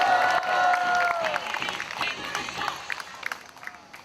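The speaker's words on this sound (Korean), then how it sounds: "광주 시민 여러분 오셨습니다. 박수 부탁드립니다." Crowd applauding at an outdoor peace rally in a park in Gwangju, dense clapping fairly near that thins and fades over a few seconds.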